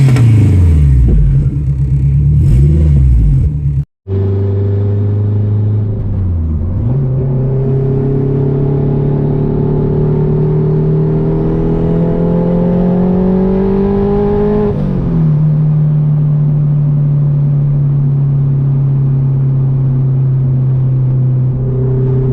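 A car engine idles loud and close, cuts out briefly, and fires back up. It then revs in long, rising sweeps, drops back, and settles into a steady hum with no talking.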